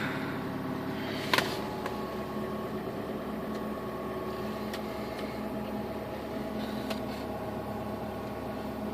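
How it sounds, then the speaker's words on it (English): A 2001 PT Cruiser engine idles steadily and evenly right after a cold start at -2 degrees, with a sharp click near the beginning and a few faint ticks over the constant running hum. "-2 degree cold start"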